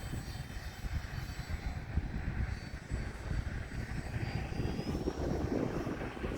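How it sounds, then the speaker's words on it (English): An E-flite Valiant RC model plane flies at full throttle, its electric motor and propeller making a steady high whine that shifts in pitch as it passes, heard from the ground amid wind and outdoor noise. "Staying full throttle here for the inverted or outside loop, I mean."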